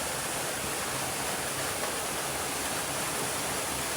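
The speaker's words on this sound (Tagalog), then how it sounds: "Ito naman ay running water." River water running at a spring resort in Samar, a steady broadband rush of flowing water, close and constant with no breaks and no voices.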